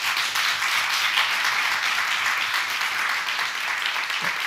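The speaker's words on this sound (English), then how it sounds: "could we have a round of applause for our..." An audience at a youth climate action debate applauds, a continuous, even patter of many hands clapping at moderate level with no pause.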